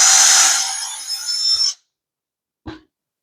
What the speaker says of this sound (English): And then you drill it to that height when the tape hits the top of the surface.